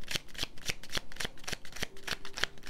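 Tarot cards being shuffled, a quick regular series of crisp riffling flicks heard close and alone.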